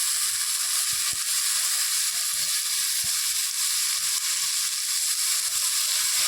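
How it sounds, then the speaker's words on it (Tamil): Tomato rice frying in a pan while being stirred, a steady bright sizzle throughout with occasional soft scraping knocks from the stirring. "அப்படி நல்லா ஸ்டிர் பண்ணிக்கிட்டே இருக்கணும், கலந்துக்கிட்டே இருக்கணும்"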